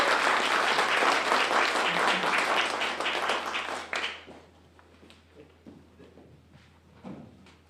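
An audience at a book concert bursts into loud, dense clapping for about four seconds, which then thins abruptly to a few scattered claps and light room noise.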